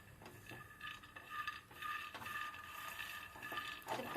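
Peanuts roasting dry in a pan while being stirred, giving a steady close scraping and rattling of nuts against the metal with occasional louder clinks, and no voices.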